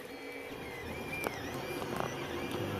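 A 3D printer works on a Ford car logo, its stepper motors whirring and whining in shifting tones with occasional small clicks, steady and fairly quiet, with no talk.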